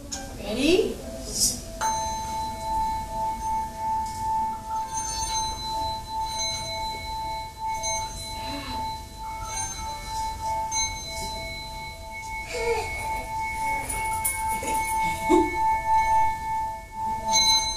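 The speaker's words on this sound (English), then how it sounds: "So these are little tiny bells." Tiny bells ring in a children's toddler yoga class, giving bright, sustained metallic tones that shimmer and decay. Several separate strikes land across the stretch, some overlapping, over soft room noise and faint voices.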